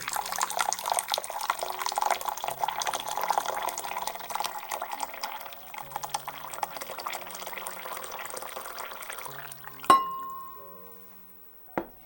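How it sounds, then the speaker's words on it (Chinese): Hot water pouring into a mixing bowl in a kitchen, a steady continuous splashing stream that ends abruptly, followed by a couple of sharp clinks of the bowl. "在料理盆中倒入热水"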